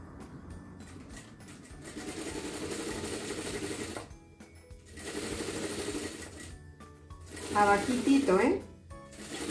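A sewing machine runs in bursts while stitching a sleeve cuff of a dress with puffed sleeves, a long steady run, a pause, then louder short runs, with someone speaking in Spanish between and over the stitching.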